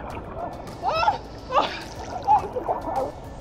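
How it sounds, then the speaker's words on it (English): Splashing from wild swimming in the sea along a rocky shore: a few distinct splashes and sloshes of water rise over a quiet background, with faint voices nearby. "we have a little splash around here for a bit, a couple of lengths"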